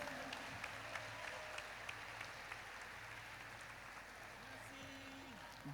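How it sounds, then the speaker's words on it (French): Faint, distant applause from an audience welcoming a guest onto a podium at a launch event, steady clapping over a low background hum. "Sous vos applaudissements, s'il vous plaît."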